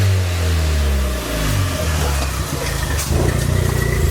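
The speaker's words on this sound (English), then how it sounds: "If you're wondering why we're revving up the car, heating up the exhaust manifold so the nuts come off easier." Ford Fiesta engine revving hard while stationary to heat the exhaust manifold, a loud, close roar whose pitch climbs and falls across repeated throttle blips.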